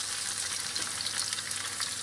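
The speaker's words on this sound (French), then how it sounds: "Donc je fais frire mes oignons." Onions frying in a pan with rice for chicken in mustard, a steady close crackling sizzle with stirring, no voices.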